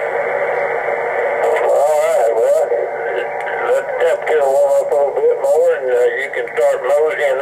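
Ham radio receiver audio from a Xiegu G108 transceiver: a distant station's voice comes through a steady band of hiss and static, filtered and wavering, continuous and fairly loud throughout.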